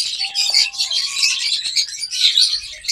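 Caged lovebirds chirp and squawk in rapid, overlapping bursts, shrill and close, a busy chatter that continues without pause.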